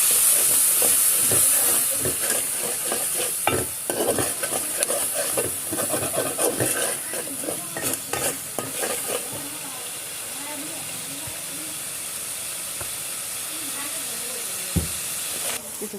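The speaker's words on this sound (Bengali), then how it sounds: "একটু পানি দিয়ে মশলাটাকে আবার কষায় নিতে হবে।" Spices being sautéed with a splash of water for bhuna khichuri, a steady hiss and sizzle from the pan with occasional stirring knocks, close, while someone talks over it.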